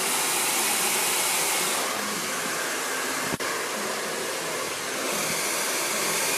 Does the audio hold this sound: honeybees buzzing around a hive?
no